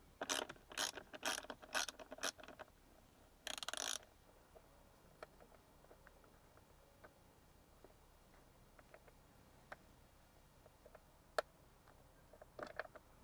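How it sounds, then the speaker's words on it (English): A 10mm wrench backs a bolt out at the B pillar of a Tesla during a light bar install, with quick bursts of ratchet clicking up front, then a longer run of rapid clicks, then faint scattered ticks and taps. "We're going to take a nice 10mm wrench, and we are going to take that bolt out."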